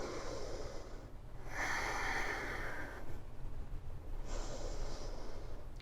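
Slow, deep yoga breaths drawn in and let out through the nose, each long inhale and exhale clearly audible and close, alternating in an unhurried rhythm with no talking.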